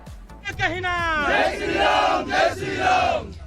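A large crowd at the Hindu Ekta Padyatra, outdoors, raising loud chanting cheers and shouted slogans in rising waves, voices blending into a dense, energetic roar close by.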